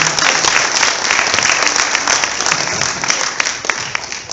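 Audience applauding a volunteer at a hypnosis show during an after-prom event, a loud, dense, continuous patter of clapping that fades slightly toward the end.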